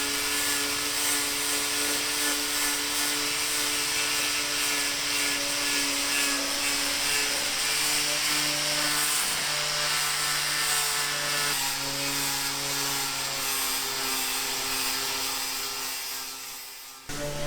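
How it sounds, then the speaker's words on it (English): A power sander works steadily on a boat hull, giving a continuous high whine with sustained motor tones, close and loud, that runs nearly unbroken before tailing off at the end. "just sanding away at the hull"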